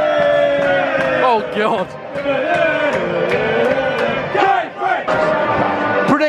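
Football fans in the stands at a Morecambe versus Cambridge match, a loud roaring crowd with chanting and shouts close by, under a nearby voice speaking.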